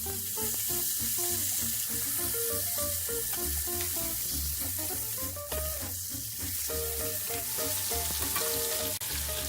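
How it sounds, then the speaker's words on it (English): Chicken pieces fry in hot oil Southern style, a dense continuous sizzle and crackle with steady popping, loud and close throughout with no voices. "It is now time to turn the pieces over and leave to fry for the next 7 minutes."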